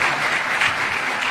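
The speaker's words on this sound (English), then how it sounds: "Let's clap for him as comes." An audience claps steadily and densely at a formal event welcoming the President of Kenya.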